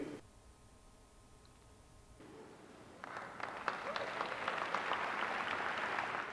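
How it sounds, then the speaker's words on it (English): Lukewarm applause from an E3 audience at Nintendo's Wii U reveal swells in after a quiet stretch with faint sound, a thin, moderate spread of clapping that stays fairly subdued rather than rousing. "With a bit of half-hearted applause."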